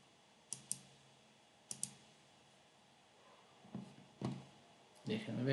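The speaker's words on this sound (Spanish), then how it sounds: "Entonces le voy a dar clic aquí al RB0." Sharp computer mouse clicks while working in the MPLAB X IDE: a quick double click, then another double click a second later, followed by softer handling noises and a brief burst of background sound.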